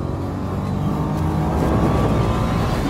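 Nissan Juke R engine accelerating hard on a race track, a loud steady roar building through a corner, close and continuous with no talking.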